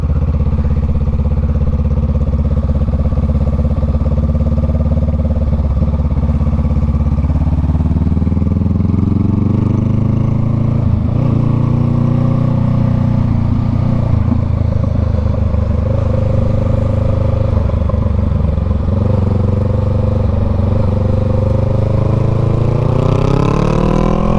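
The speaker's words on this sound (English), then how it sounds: "Got that nice like dirt bike sound." A dirt bike engine revs loudly up close, its throaty buzz climbing and falling in pitch over repeated throttle blips, ending on a rising rev.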